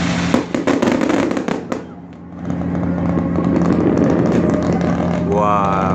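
Fireworks burst over the night sea at Yeosu during an evening cruise, a rapid crackling volley followed by a rumbling wash of explosions, loud and continuous, with excited voices in the crowd.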